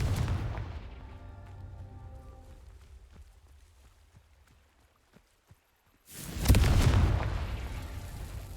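Confringo fire-spell blasts in Hogwarts Legacy: a booming blast fades away into near silence with a few faint ticks, then a second loud, deep explosive burst erupts and rumbles on.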